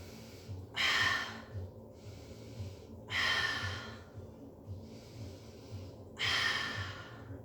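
Three loud, breathy exhalations at steady intervals during a mat Pilates exercise, each a broad rush of air, with softer breaths and quiet room sound between them.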